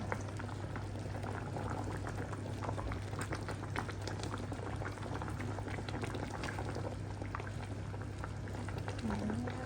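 Broth sweetened with brown sugar boiling steadily in a pot to thicken, a continuous dense bubbling and simmering hiss with no voices over it.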